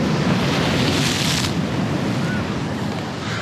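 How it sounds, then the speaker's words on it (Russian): Rough ocean waves crash and surge on a San Francisco shore in a continuous loud roar, with gusty wind buffeting the microphone. "Это волны сильно прям... бушуют."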